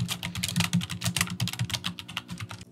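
Fast, continuous typing on a computer keyboard while entering a script, close and crisp key clicks in an uneven rhythm with no talking.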